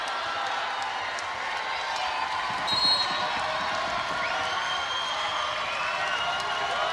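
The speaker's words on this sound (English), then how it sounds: "Listen to the noise of this crowd." A large arena crowd roars steadily throughout a Georgia Tech versus Louisville NCAA women's volleyball match, a dense, sustained cheer with a brief swell near the three-second mark.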